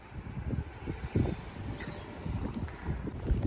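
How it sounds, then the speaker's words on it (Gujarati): Strong wind buffeting outdoors in rain, gusty low rumbling bursts and microphone buffeting at moderate loudness, with faint patter and no speech. "વરસાદ તો છે જ આજે પણ ફૂલ પવન સાથે"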